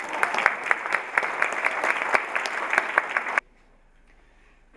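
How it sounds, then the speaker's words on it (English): Audience applause at a gathering, a brisk crackle of many hands clapping that stops abruptly after a few seconds, leaving near silence. "One more round of applause for her."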